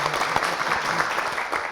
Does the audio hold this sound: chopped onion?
no